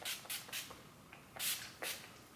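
Several short hissing bursts of Urban Decay All Nighter setting spray, fairly close and quiet, spaced unevenly with a couple of louder puffs near the end.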